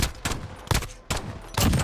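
Rapid pistol shots ring out in a video game 2v2 match, four sharp bursts spaced a fraction of a second apart, loud and close with no voices.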